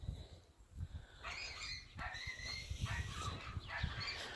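A new puppy tied up on a porch yelps and cries in short, high, broken bursts, fairly close, over a steady low rumble of outdoor background noise.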